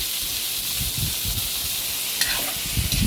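Meat for sinabawang sotanghon sizzles in hot oil with a steady bright hiss, while a utensil scrapes and stirs it in the pan, close up.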